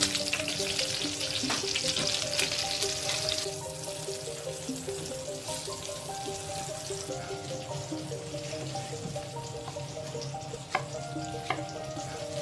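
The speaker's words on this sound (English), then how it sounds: "So here we need to saute it quite well for a few minutes" Ingredients for a seafood paella sautéing in a pan, a continuous close sizzle that eases slightly partway through, with occasional light stirring clicks and no voices.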